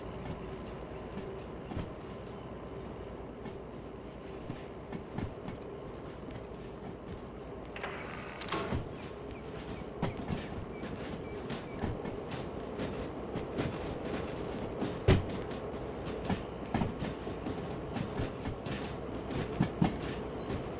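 A train made up of a locomotive and wagons rolls along with a continuous low rumble and steady clatter, moderately loud, broken by scattered sharp clicks and knocks and one brief high squeal near the middle.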